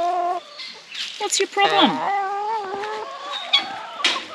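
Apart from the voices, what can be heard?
chickens clucking in a coop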